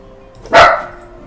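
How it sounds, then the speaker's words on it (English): A single loud dog bark rings out nearby, short and sharp, over a quiet background. "Oh, that's my dogs."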